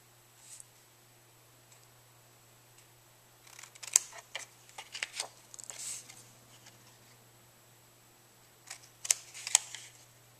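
Scissors cutting diagonal slits into paper up to a score line for a mini box lid, soft and close, with scattered snips and rustles in short clusters and quiet pauses between.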